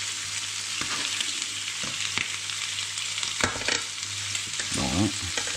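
Venison chops fry in butter in a pan, a constant close crackling sizzle broken by several sharp scrapes and knocks as the meat is turned, with a brief louder bubbling burst near the end.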